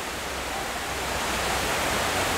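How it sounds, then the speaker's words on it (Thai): Sai Yok Noi waterfall in Kanchanaburi, Thailand, running strong in the rainy season, gives a steady, loud, close rushing roar that holds evenly throughout with no talking. "ส่วนด้านหน้านี้นะครับก็เป็นตัวน้ำตกนะครับของน้ำตกสายโยกน้อย"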